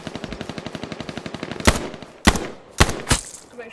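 A rapid, even burst of automatic gunfire in the video game H1Z1, followed by four louder, separate single shots spaced apart, close and sharp.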